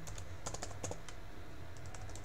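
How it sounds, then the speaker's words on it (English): Prompt typed on a computer keyboard, bursts of light key clicks under a steady background hum, no voices. "you can type in the prompt"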